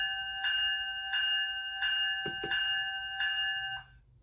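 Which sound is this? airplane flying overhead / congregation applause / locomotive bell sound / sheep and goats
locomotive bell sound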